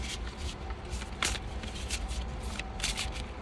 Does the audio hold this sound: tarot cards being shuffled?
yes